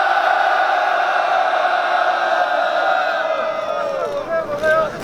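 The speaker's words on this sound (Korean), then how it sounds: "함성 발사 3초!" A crowd at an outdoor press conference shouting together in unison, a loud sustained collective roar holding steady for several seconds before it breaks up and fades into scattered voices.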